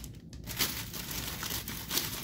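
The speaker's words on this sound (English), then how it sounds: "Let's take it out of this plastic bag." Plastic bag crinkling and rustling in short bursts, close and fairly quiet, as an Uberti 1851 Navy Conversion revolver is unwrapped.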